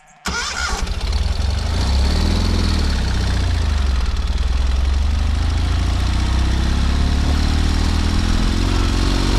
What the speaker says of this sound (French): le moteur il s'essouffle un peu